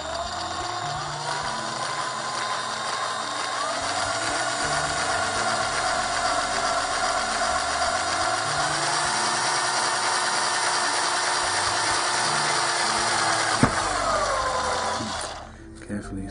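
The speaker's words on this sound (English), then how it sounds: "it's going to be a matter of drilling pilot holes for all the holes" A power drill with a small bit bores pilot holes, a steady high whine that shifts pitch a few times as it runs, then winds down at the end.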